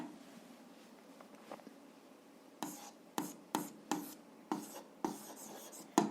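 A pen writes out an algebra equation for a 7th-grade exercise, with faint scratching followed by a series of distinct, evenly spaced tapping strokes close by.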